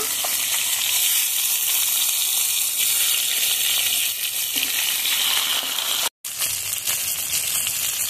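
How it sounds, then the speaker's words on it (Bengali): Rohu fish fries in hot oil in a pan, a loud, dense, steady sizzle with a brief cut near the end and no voices. "তেল গরম হয়ে গেছে, মাছগুলো ভেজে নেব।"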